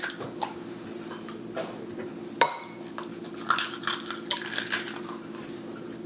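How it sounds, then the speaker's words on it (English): Three jumbo eggs being cracked for a quiche, giving a few sharp, close shell taps and clinks against a bowl, with a standout crack near the middle and softer clicks after, over a steady low kitchen hum. "I'm going to crack 3 eggs. These are jumbo eggs, by the way."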